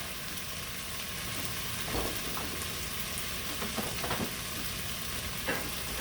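Sausage and potatoes frying in a cast iron Dutch oven, a continuous dense sizzle close by with a few light stirring clicks and pops, and no speech.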